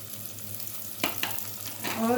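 Carrots and bell pepper fry in a pan for vegetable pulao, giving a soft, close sizzle with a couple of brief utensil clicks partway through.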